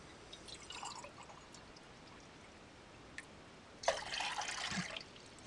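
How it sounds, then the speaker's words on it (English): Water for morning coffee being prepared in a home kitchen, heard as soft dripping and trickling, quiet and close, with a louder splashing pour near the end and no talking. "I thought I'd show you making coffee in the morning."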